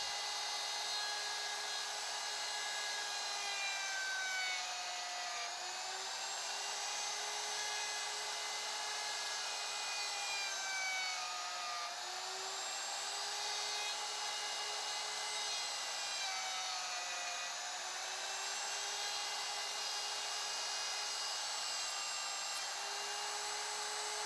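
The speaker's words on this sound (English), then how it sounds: "Roll the router around to the next finger to the right, continuing in this manner until you've completely routed the workpieces." A DEWALT router cuts dovetail joints in wood, giving a steady high-pitched whine. Its pitch dips briefly at regular intervals as the bit bites into each finger of the workpiece, and the sound holds loud and close throughout.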